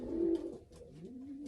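Racing pigeons coo softly up close, one low rolling call followed by a second quieter coo against faint background noise.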